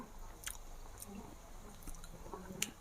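Quiet, close chewing of homemade fast food during a taste test: soft, moist bites and squishy mastication with faint crunches, and no talking.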